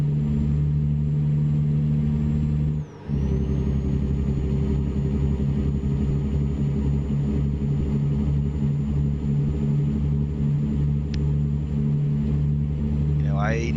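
The 600-horsepower engine of a truck in American Truck Simulator drones steadily at close range, with a low rumble and harmonic hum under a brief dip.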